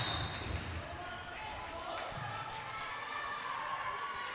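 Loud crowd noise at a high school boys basketball game in a gym, a steady roar with shouts and ball bounces under a commentator's voice.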